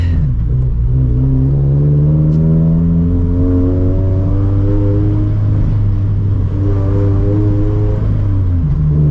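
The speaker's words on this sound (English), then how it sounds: "You guys can probably hear the clutch chatter" A turbocharged 400 hp car with a built FA20 engine at 17 psi boost drones loudly up close, revving up and easing off, with a shuddering South Bend clutch chatter running beneath the steady hum.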